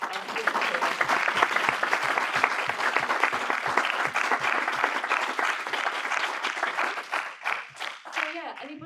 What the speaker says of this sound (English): if we could just do a quick round of applause for our speakers